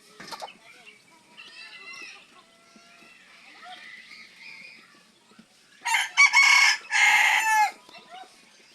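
A white Malaysian Serama rooster gives soft clucks and chirps, then crows loudly and close twice in quick succession near the end.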